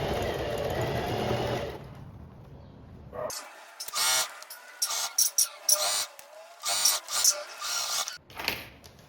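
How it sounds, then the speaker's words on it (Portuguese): A sewing machine backstitches a dress seam in short, loud, stuttering bursts of rapid stitching with brief pauses between them, after a stretch of softer handling noise. "eu vou encerrar a minha costura aqui com o retrocesso"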